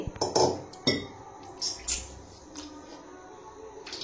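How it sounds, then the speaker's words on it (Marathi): An iron kadai is rinsed and scrubbed, giving a few clinks and metallic knocks of the pan with brief splashy rubbing sounds, close and fairly quiet. "ती कढई मी धुवून घासून ठेवली होती. आता परत एकदा धुवून घेते"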